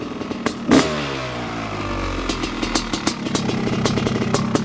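A restored 1995 Honda CR500R two-stroke motorcycle engine blips sharply once, then settles into a rough, popping idle with crackling bursts, loud and close, with no talk.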